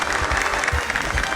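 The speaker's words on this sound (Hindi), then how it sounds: "तालियां।" A brief burst of clapping and cheering from a studio audience at a quiz show, a panipuri seller's win being celebrated, loud and close for about a second and a half.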